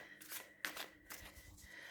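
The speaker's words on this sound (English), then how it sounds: "They slide over each other absolutely beautifully when you're shuffling or to fan it out." Standard-size tarot cards with slippery stock are shuffled and riffled close up, a few soft papery swishes and flicks in quick succession, quiet and without talk.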